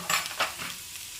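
Chopped onions go into a hot pan and fry with a loud stirring sizzle, two sharp bursts early on settling into a steady hiss, no voices.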